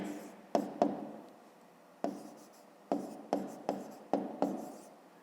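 Pen or pencil writing out a fifth-grade math exercise on paper, a series of close, crisp taps and short scratching strokes in an irregular rhythm, with no talking.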